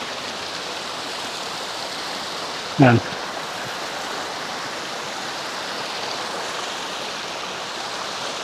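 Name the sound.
spring water flowing over stones dammed under Bancod bridge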